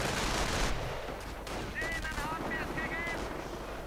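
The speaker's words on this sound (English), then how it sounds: "Base is under enemy fire." Gunfire in a WWII strategy video game battle: dense bursts of rattling fire under a continuous roar of battle noise, with a voice speaking briefly midway.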